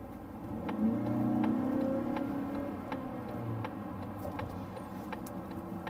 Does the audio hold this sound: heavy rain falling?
no